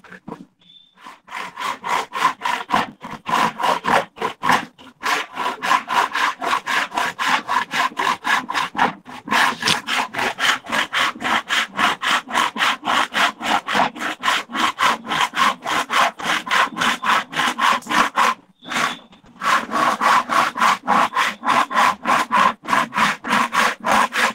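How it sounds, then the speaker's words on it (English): A hacksaw cutting through a wooden sheet in fast, even back-and-forth strokes, loud and close, with a couple of brief pauses before the rhythmic rasping resumes. "Then you take the hacksaw."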